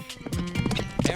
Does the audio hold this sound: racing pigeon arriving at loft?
no